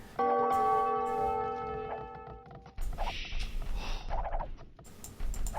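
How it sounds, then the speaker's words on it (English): Town alarm bells ring in Age of Empires, a loud sustained bell tone with ringing overtones that fades out after about two seconds, followed by busier bursts of game clatter. "TaToH's point of view because at the moment, with all the alarm bells going off"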